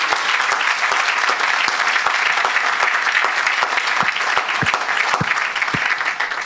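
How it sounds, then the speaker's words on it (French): A church congregation claps and acclaims Jesus Christ during a healing service, a loud sustained wave of applause from many hands, dense and continuous throughout with a few sharper claps standing out. "acclame pour Jésus-Christ"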